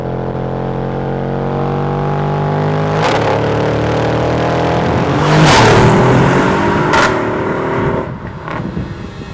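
A Mercedes-AMG GLE 63 S engine revs and accelerates loudly nearby, pitch climbing through several gear changes with sharp shift cracks, then easing off as it passes.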